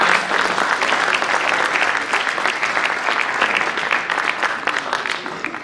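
An audience at a school celebration ceremony breaks into sustained, dense applause that fills the room steadily and fades slightly toward the end, with no speech over it.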